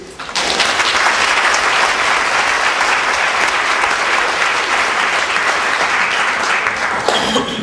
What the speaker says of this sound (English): A big applause for him, please.